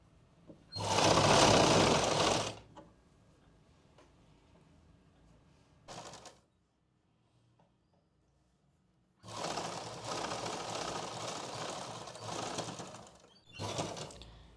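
A sewing machine stitches elastic into palazzo pants in short bursts of rapid, close clatter separated by quiet pauses, with brief softer fabric handling between runs.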